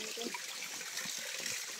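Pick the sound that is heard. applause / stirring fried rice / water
water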